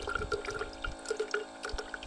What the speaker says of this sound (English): So we got this electric water dispenser.